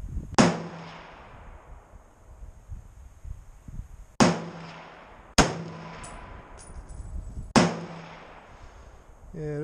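Four sharp, loud Browning BAR .30-06 rifle shots spaced a few seconds apart at an outdoor range while sighting in, each crack followed by a ringing decay, with faint background talk between them.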